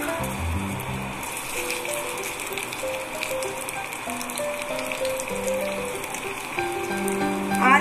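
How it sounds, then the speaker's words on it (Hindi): Potatoes fry in hot oil for dum aloo with a dense, steady sizzle like rain, close and continuous, swelling slightly toward the end, with no voices. "अब हम इसमें अपने आलुओं को बहुत ही संभाल के डालेंगे जिससे कि तेल बाहर छिटा न मारे"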